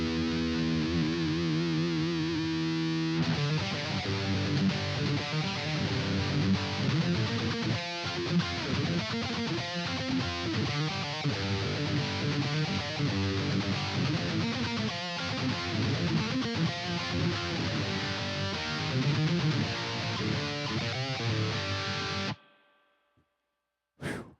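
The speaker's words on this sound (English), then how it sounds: "let's put it on 99 just to see how crazy loud and distorted this thing gets" An electric guitar roars through a Boss ME-90's heavy, saturated distortion at maximum setting, loud and sustained for over twenty seconds before cutting abruptly to silence.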